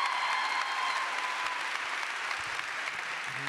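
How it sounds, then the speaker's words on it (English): An audience claps for a woman at a live talk event, a steady, full round of applause that stays even and close throughout with no talking over it. "I know y'all are just clapping for her"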